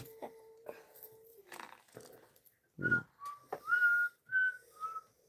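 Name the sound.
person whistling a random tune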